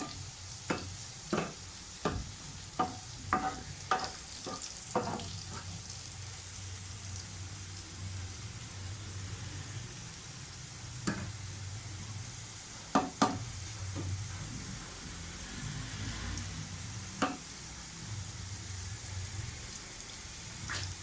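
Garlic sautéing for black masoor lentil dal gives a steady pan sizzle, broken by a run of sharp spatula scrapes and taps early on and a few more later, with no voices.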